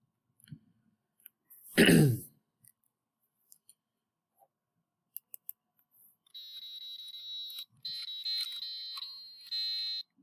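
Buzzy electronic square-wave tones from an ESP32 microcontroller's DAC play a simple piano-like melody after an earlier cough-like noise, the notes thin and synthetic with short 20-millisecond breaks between phrases.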